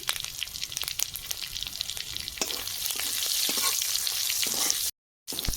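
Panch phoron and dried red chillies fry in hot oil with a bright, crackling sizzle that swells midway, with occasional stirring clicks and a brief dropout near the end.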